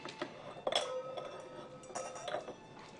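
A wine glass is handled during a tasting, giving a couple of light glassy clinks with soft knocks and faint rustling, fairly close and quiet, with no voices.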